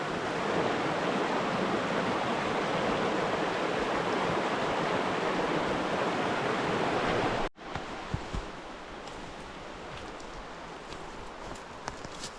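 A waterfall rushes as a dense, steady broadband roar for several seconds, then cuts abruptly to a quieter, more distant wash of falling water with scattered splashes.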